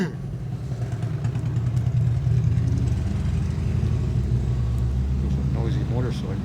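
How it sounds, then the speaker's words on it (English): A 1970 Harley-Davidson Sportster XLCH ironhead bobber engine idles with a steady low rumble close by, while a person talks over it. "It's a noisy motorcycle."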